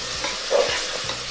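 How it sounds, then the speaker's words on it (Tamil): Radish sautéed in a pan with onion and tomato, a soft continuous sizzle broken by a few quiet scraping stirs, close and faint with no talking. "முள்ளாங்கி வதக்கணும்."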